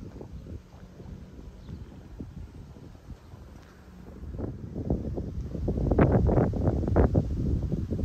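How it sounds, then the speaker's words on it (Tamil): Wind buffets the microphone in a low, gusty rumble that grows stronger and choppier midway, with rustling flutter, and no one speaks. "காற்று சத்தம் உங்களுக்கு கேட்க நினைக்கிறேன்"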